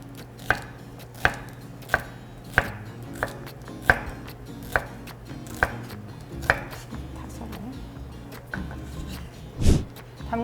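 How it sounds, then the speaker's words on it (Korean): A knife cuts bell pepper into thin julienne strips on a cutting board, with about a dozen evenly spaced, crisp chops close by and a heavier clatter near the end. No one speaks. "이렇게 가늘게 채를 썰어주시면 모양도 예쁘고 손도 다치지 않게 썰 수가"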